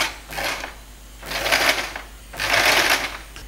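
Sewing machine stitching pleats into a yoke nighty in bursts of rapid needle clatter, three short runs with pauses between, close up and fairly quiet, no talk.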